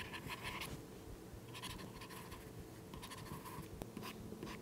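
Stylus writing on a paper-like e-ink tablet, a dry close scratching that comes in several bursts of strokes with short pauses between them, no voices.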